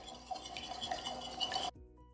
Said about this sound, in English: we're just gonna give this a really good whisk until it's all combined